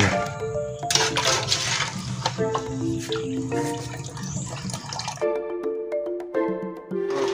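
Water drips and trickles as boiled cincau leaves, browned from cooking, are drained and moved to another container, with splashes and clinking alongside, no talk.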